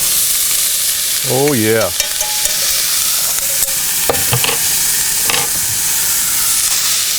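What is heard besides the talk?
sauerkraut sizzling as it goes into the pan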